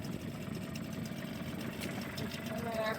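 Boat engine idling out of gear, a low steady mid-frequency rumble running continuously and fairly faint throughout, with voices talking in the background.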